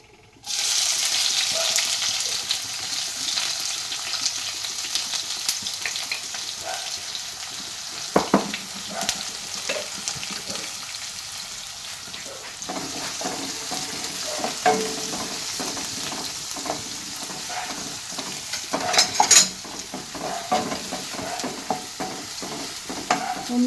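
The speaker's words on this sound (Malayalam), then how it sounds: "നമ്മൾ ചതച്ച് വെച്ചിരിക്കുന്ന ചെറിയ ഉള്ളിയും വെളുത്തുള്ളിയും ഒക്കെ ഇട്ട് കൊടുക്കണം" Crushed shallots and garlic dropped into hot oil for an ivy gourd egg thoran, sizzling and frying with a constant hiss while a spoon scrapes and stirs through the pan, steady and close, no talking.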